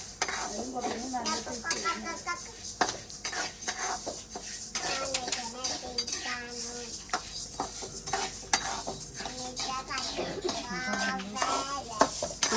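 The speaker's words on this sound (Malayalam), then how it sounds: "നമ്മളിവിടെ മുതിര വറുത്തോണ്ടിരിക്കുക" Horse gram roasting in a pan, scraping and stirring against the metal with light sizzling, steady and close, while voices talk over it throughout.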